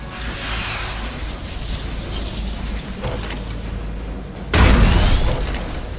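A sonic cannon fires in the Disney Infinity 2.0 video game, Ultimate Spider-Man sewer level, heard as a steady mechanical whir that ends in a sudden loud booming burst near the end.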